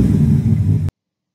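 A fast car driving past with a loud, steady low engine rumble and road roar that cuts off sharply after about a second.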